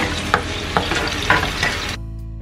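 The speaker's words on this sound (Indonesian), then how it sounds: "Aduk rata dulu." A spatula stirs a spicy eggplant and tofu stir-fry in a pan seasoned with soy sauce and rice vinegar, giving several distinct scraping strokes over a steady sizzle before the sound cuts off abruptly.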